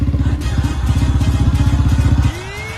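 A motorcycle engine runs close and loud with a steady, rapid thumping rhythm for about two seconds, then cuts off abruptly, leaving a faint rising whine and quieter background.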